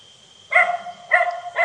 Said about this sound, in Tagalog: Pero maraming aso dito